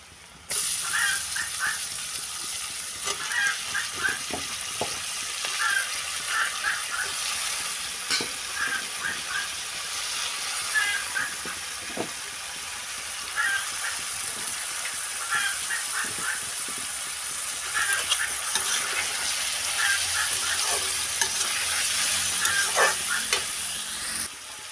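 Small fish (kawai, goroi and puthi) with lemon leaves frying in hot oil: a continuous, loud hiss and sizzle with crackling pops and occasional stirring throughout.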